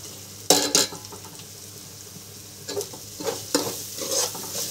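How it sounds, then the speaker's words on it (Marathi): Spice masala frying in oil in a pan for spicy chicken keema, with sharp bursts of stirring and scraping over a steady low sizzle, a few louder clatters of a spoon against the pan. "तर मसाला फ्राय करून घेऊया आपण तेलामध्ये."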